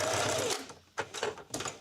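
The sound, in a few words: sewing machine sewing fabric onto rope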